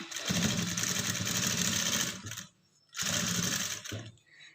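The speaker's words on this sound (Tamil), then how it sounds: "மேலே வந்து ஒரு டாப் ஸ்டிச் வந்து போட்டுக்குங்க" A sewing machine top-stitches a dart on a bra-style blouse cup, running steadily in two close, even bursts with a short pause between them.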